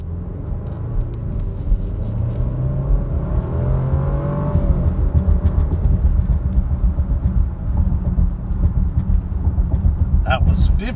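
A 2020 Jaguar F-Pace 30t AWD accelerating at half throttle, heard from inside as a steady engine drone with rising tone over several seconds, a continuous low rumble throughout.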